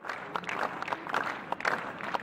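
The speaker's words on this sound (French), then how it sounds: "Des vagues d'applaudissements s'élèvent régulièrement d'une foule de quelques milliers de personnes" A crowd of a few thousand at Marseille's Old Port applauding, with dense, muffled clapping rising and falling in waves at a distance, steady throughout without standout voices.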